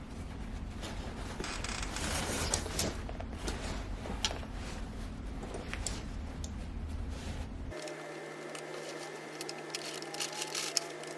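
A sewing machine stitches a sofa slipcover seam in a steady mechanical run, then changes to a thinner, higher-pitched whirring for the last few seconds.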